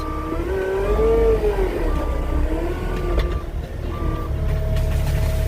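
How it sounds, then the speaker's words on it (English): A 299 skid steer pulls under load, its engine droning loud and steady with a rising and falling tonal whine. A few faint clanks cut in and no one speaks. "these little skid steers will pull quite a bit, especially this 299 being a little more robust"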